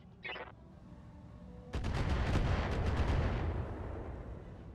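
A mech in the BattleTech game Roguetech fires all its weapons at once: a rapid volley of sharp shots and booms erupts after a quieter opening, merging into a loud rumbling barrage that slowly fades, with no talking.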